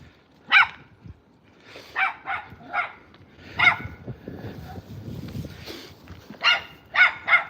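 A dog barks repeatedly in short, sharp, fairly close yaps, spaced irregularly with quieter whines and scuffling in between and more rapid barks near the end.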